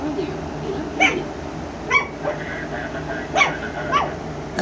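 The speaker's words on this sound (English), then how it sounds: "Bark at Bella." A dog barks and yips in short bursts, several spaced barks over steady background hum, fairly close.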